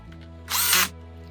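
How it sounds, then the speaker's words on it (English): A cordless screw gun with its clutch set very low drives a screw into the plastic housing of a Simplicity Freedom vacuum cleaner, giving one short, loud whirring burst of about half a second over a quiet hum. "This screw gun actually has a really light touch, so I just turned the clutch down super low"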